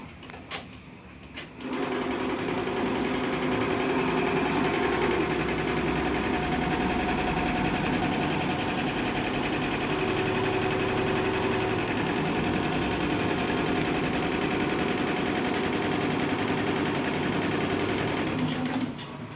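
A double-head computer embroidery machine starts up and stitches a design onto canvas, giving a steady, fast, rapid-fire mechanical clatter that holds loud and even for the whole run after a brief quieter moment at the start.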